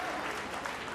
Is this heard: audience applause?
yes